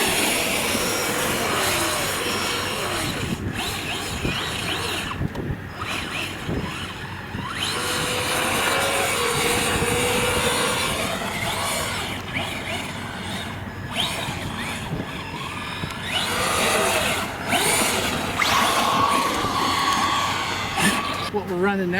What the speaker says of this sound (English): What we're running now is a 3S Typhon, and it's four-wheel drive.